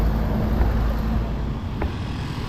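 A motor tricycle drives off along a busy street, its steady low engine rumble mixed with passing traffic and no talk.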